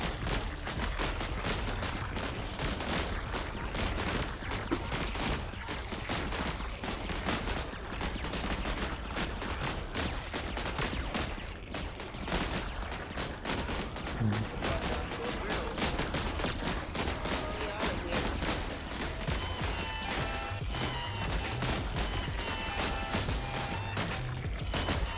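Automated turrets in the video game Buggos fire without pause in a dense, relentless volley of rapid gunshots, loud and continuous throughout.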